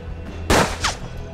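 A single loud gunshot in the turn-based western video game Hard West, a sharp broadband crack followed by a brief trailing ricochet-like whine, with no talking.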